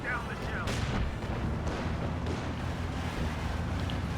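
Artillery pieces fire in Company of Heroes 2, a howitzer-style crew weapon shooting like a mortar, with heavy booming blasts and rumbling echoes layered over battle noise while a voice talks throughout.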